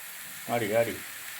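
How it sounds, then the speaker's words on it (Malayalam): Chopped tomatoes and egg sizzle steadily in a pan over medium flame while being stirred, with a brief voice rising over the frying midway. "മീഡിയം ഫ്ലെയിമിൽ വെച്ചിട്ട് നന്നായിട്ട് ഇളക്കണം."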